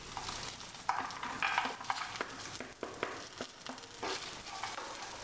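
Onion, garlic and dry spices fry in a pan over low heat while being stirred, giving a steady close sizzle broken by repeated scraping strokes of a spoon, with no talking.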